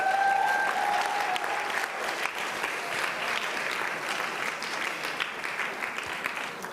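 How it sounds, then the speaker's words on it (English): An audience at a wealth summit applauds a pastor, sustained dense clapping from a large crowd that holds steady for several seconds, full and even with no speech. "Can we clap for Pastor Matthew once again?"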